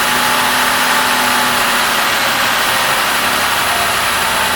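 Car engine fitted with a Fuel Genie hydrogen generator running at a steady idle, a loud continuous drone with a faint whine on top, alone with no talk.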